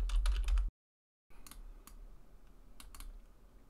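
A computer keyboard is heard in a few clicky key presses, close and fairly quiet, with a short silent gap between bursts and no talking.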